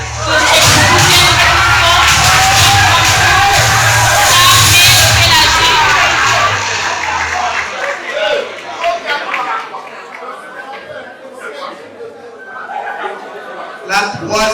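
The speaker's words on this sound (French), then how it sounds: "Sam et Pélagie sous vos acclamations, s'il vous plaît." An audience at a school talent show grand finale cheers and applauds loudly over an announcer's voice, the roar lasting several seconds before fading into scattered chatter and claps.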